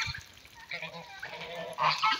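Geese among other waterfowl and poultry kept in an outdoor pen call with several honking cries, moderately near, against rustling background noise.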